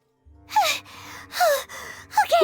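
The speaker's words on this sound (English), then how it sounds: "Gasp." A character in the video game Genshin Impact lets out several sharp, breathy gasps, close and clear, with short pauses between them.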